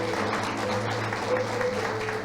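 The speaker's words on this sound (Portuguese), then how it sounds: "Uma salva de palmas para elas" Applause from a church congregation at a celebration service, a dense, even wash of clapping that holds steady for a couple of seconds.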